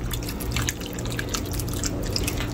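Hot water poured into a cooking pot of stew fish sauce, a steady close splashing and trickling stream that runs unbroken for a couple of seconds.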